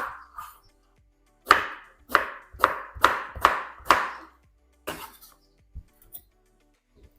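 Knife cubing peeled eggplant on a cutting board: a run of six crisp, evenly spaced cuts, then a few softer scattered taps, close up and otherwise quiet.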